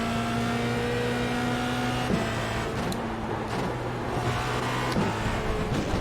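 A Formula Renault 2.0 race car lapping in the iRacing simulator: a steady, loud engine drone at high revs with brief shifts and dips in pitch, a continuous in-car roar with no talk.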